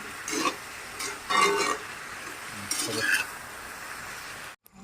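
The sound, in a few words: stirring and mixing local meat with banana flower in a pan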